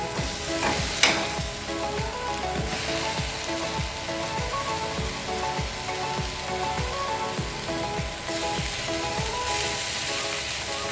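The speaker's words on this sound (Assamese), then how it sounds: "এই আদা নহৰুখিনি ভাজি থাকোঁতে আমি অলপ জুইটো কমাই দিম" Steady sizzling of ginger and garlic frying in hot oil, a continuous crackle and hiss with occasional stirring scrapes, close and even throughout.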